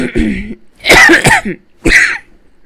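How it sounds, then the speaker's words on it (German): Three or four harsh, close coughs in quick succession, rough and throaty, separated by brief pauses. "Entschuldigung, auch wegen meinem Husten."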